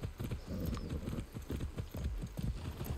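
A horse gallops in the video game Far Cry 6, its hooves drumming in a quick, steady rhythm close up over a continuous game ambience, with no talking.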